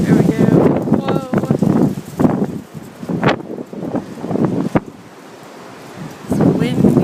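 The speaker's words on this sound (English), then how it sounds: "It's windy out." Strong outdoor wind gusts roar and buffet the microphone beside moving water, swelling and easing through the stretch, with someone talking and exclaiming over it before a brief calmer lull.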